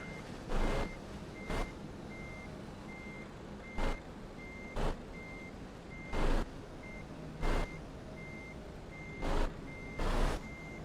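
A truck backs a trailer into position in Euro Truck Simulator 2, its reversing alarm sending out an evenly spaced series of beeps over a low engine idle, broken by several loud bursts of air brakes or hiss.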